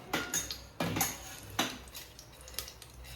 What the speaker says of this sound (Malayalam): നമുക്ക് പട്ട, ഗ്രാമ്പു, ഏലക്കൊക്കെ ഇട്ട് കൊടുക്കാം